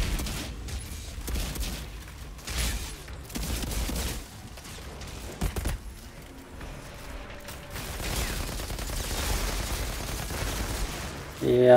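Rapid bursts of gunfire from the looter-shooter game Outriders, repeated volleys crackling through a busy combat mix, fairly quiet overall, with brief gaps between bursts and a louder sustained stretch toward the end.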